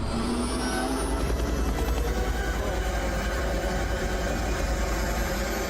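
A loud, continuous helicopter drone with a rapid rotor chop and engine whine, filling the whole stretch without pause.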